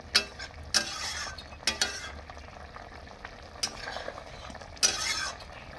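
Jackfruit kofta curry finished with ghee and garam masala, scraped and spooned out of a cooking pan into a serving dish: several sharp metal scrapes and clinks spaced over a few seconds against a low kitchen hum, no talk.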